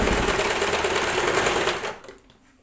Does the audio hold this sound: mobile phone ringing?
no